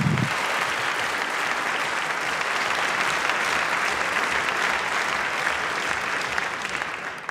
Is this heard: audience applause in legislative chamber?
yes